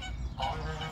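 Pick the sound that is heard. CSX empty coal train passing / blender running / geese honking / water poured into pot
geese honking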